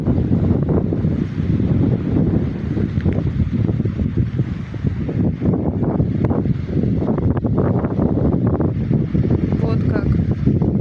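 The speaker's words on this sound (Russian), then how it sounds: "А, опять порыв ветра." Strong gusts of wind buffet the microphone in a broad, uneven roar that swells and dips across the stretch, heard outdoors during stormy summer weather in Russia, with a voice talking over it.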